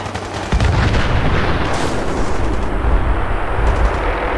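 Sustained gunfire from gunners in a Fallout 4 battle with the Sim Settlements 2 mod, dense loud volleys of shots and booms rolling continuously without letup.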